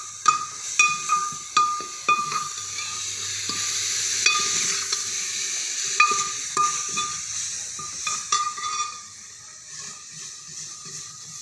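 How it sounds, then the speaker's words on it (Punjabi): Chili roasting in a pan for a dry turnip sabzi, with a steady sizzle and frying hiss alongside repeated clinks and scrapes of a spoon stirring against the pan, close and fairly loud. "ਮਿਰਚ ਪਹਿਲਾਂ ਭੁੰਨਾਂਗੇ ਜੀ"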